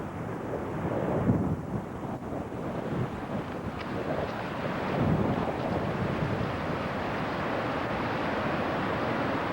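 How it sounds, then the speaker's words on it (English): The roaring Niagara Falls waterfall sends mist into the air; a constant broad rushing roar with buffeting wind on the microphone, loud and close, with no talking. "Here's the falls, and I'm getting soaking wet from this mist."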